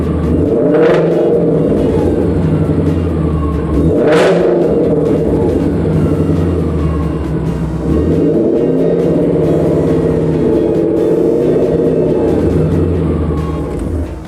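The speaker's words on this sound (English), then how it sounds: "as I rev the car up" Car engine running on E85 fuel revved repeatedly, loud close rumbling idle broken by several sharp throttle blips that rise and fall, no talk over it.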